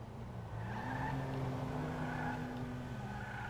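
A soft, steady electric whine of a front-wheel-drive Överflöd Pipistrello electric car in GTA Online with faint tire noise, rising slightly in pitch, then holding steady.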